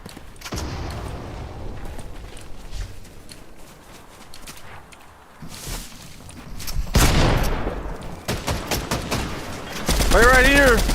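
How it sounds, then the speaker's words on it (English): MK7 assault rifle fire in a Fortnite match, loud close bursts of rapid shots and scattered single cracks with gaps between, mixed with game effects and a person talking over parts of it. "Maybe I can land some shots closer up. Especially since I'm using an MK7. It's harder to hit long range shots with this weapon."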